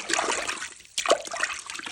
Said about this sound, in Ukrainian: Зараз тут тільки що тут воду набираю